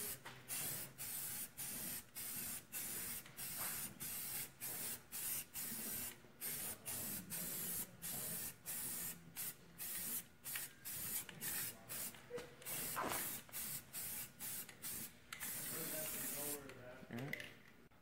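Spray paint hissing from an aerosol can onto car rims in repeated short bursts with brief gaps, close and fairly loud, steady rhythm throughout.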